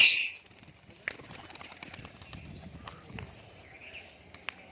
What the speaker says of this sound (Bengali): পায়রা সব খাওয়ার জন্য এরকম করছে, নেমে যাচ্ছে